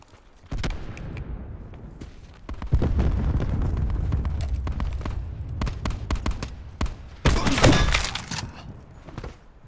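Gunfire in the Call of Duty: Blackout video game comes as rapid, loud bursts of close shots mixed with heavier blasts, dense at times, with brief pauses in between.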